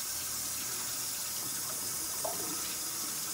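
A drink being poured out into a sink, giving a steady, close watery rush like running water that lasts throughout with no talking.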